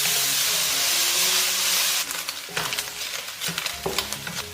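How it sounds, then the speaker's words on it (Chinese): Pork belly pieces fry in a little oil in a wok with a loud, steady sizzle that breaks into crackles and stirring scrapes partway through, close and without voices. "炒锅里面加少许油，先把五花肉呢放进来点出油。"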